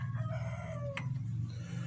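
A rooster crows once at a distance over a loud low electrical hum, a brief rising call cutting through the steady drone.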